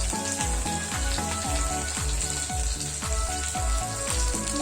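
Sugar and a pinch of turmeric go into a sizzling tempering, a constant loud frying hiss with a rapid series of repeating bubbling pulses underneath, close and without talk.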